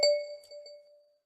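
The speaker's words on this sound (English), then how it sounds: "hear that? That's the bell." A single bell strikes once with a clear metallic ding, its tone ringing on and slowly decaying over about a second, with no talking over it.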